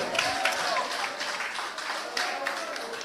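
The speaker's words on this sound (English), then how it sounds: "Round of applause again for ring the bell." Crowd at an outdoor town hall political meeting in La Ressource, Dennery gives a round of applause, scattered clapping and cheering under the din of voices and talk.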